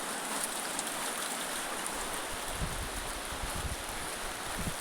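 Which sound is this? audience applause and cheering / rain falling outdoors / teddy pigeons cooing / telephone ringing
rain falling outdoors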